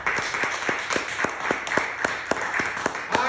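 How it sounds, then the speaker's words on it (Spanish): Congregation at a church service clapping in unison, a brisk, even rhythm of sharp claps repeating about four times a second, close and fairly loud, with no speech. "Démosle palmas al Señor."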